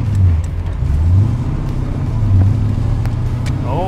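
A 1979 Chevrolet Corvette C3 with headers rumbles steadily nearby, its engine note rising and easing slightly as the car pulls away through traffic, with no talk over it.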